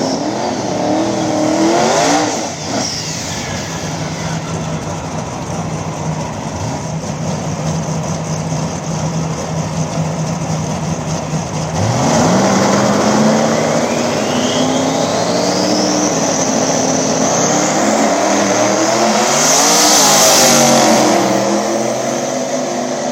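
Drag race cars, including a diesel turbo Camaro, launch and scream down the strip in loud passes, engine notes rising in pitch as they accelerate, with turbo whistle and a second surge of engine roar later on.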